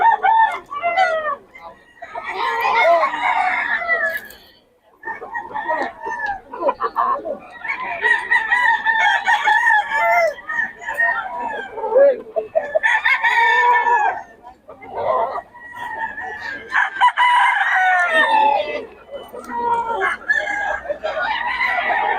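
Game roosters crow over and over at a gamefowl seller's yard, where stags and banded eight-month-old birds are on offer. The calls are loud and close, with clucking and voices talking throughout.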